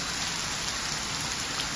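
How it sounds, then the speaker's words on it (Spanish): Heavy rain falls in Zurich, a dense, steady hiss of drops hitting surfaces, even and continuous throughout the short stretch with no voices. "Me ha dado la bienvenida con una lluvia repugnante."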